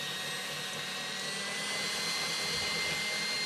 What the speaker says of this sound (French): On va accélérer le batteur.